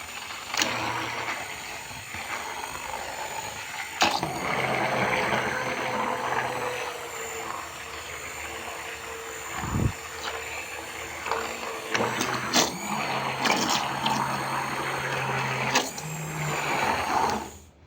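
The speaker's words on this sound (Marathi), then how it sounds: "तर त्यामध्येच मी हे फिरवून घेणार आहे ग्राइंडर याच्यात टाकलेलं आहे आणि हळूहळू आपण हे फिरवून घेऊयात" A kitchen mixer grinder blends a raw mango panha mixture, its loud whirring motor running in sustained bursts with brief pauses and changes in pitch, close by.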